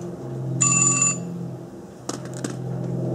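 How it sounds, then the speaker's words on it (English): A mobile phone rings with a short, bright electronic ringtone burst lasting about half a second, loud and close, set in a quiet room where pool water test kit work is underway; a couple of brief knocks follow. "That's my phone."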